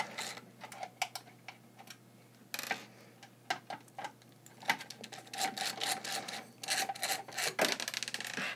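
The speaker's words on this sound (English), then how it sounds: "Got this awesome ratchet screwdriver which makes these kinds of things very easy." A ratchet screwdriver backing out the screws of a PC power supply's back plate during a Corsair Carbide Spec-02 build. Quick clicking ratchet ticks and scraping come close and fairly loud, in irregular bursts.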